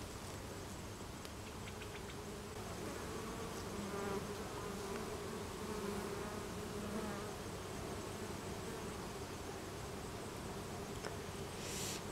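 Dwarf honeybees swarm around their cut-down nest, a steady, faint, many-layered buzzing that continues throughout without any voices.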